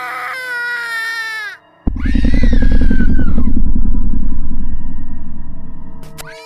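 A woman screaming in pain from an upstairs room, a long loud wailing cry that rises and strains after a brief gap, heard alone and close.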